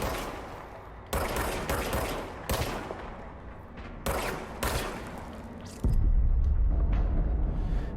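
Gunfire from the Service Weapon in the game Control: a string of loud, sharp shots in irregular bursts over a low rumble, ending in a heavier sustained blast of low-end noise.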